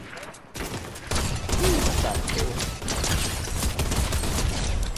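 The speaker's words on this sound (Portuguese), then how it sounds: "Pô, mas os caras estão trocando tiro comigo mesmo?" Dense gunfire crackles in a Fortnite match on PS4, a near-continuous fusillade of shots, with a player talking briefly over it.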